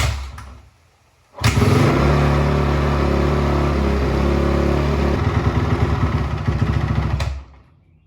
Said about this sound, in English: the first thing we're going to do to this bike is let it run for 3 minutes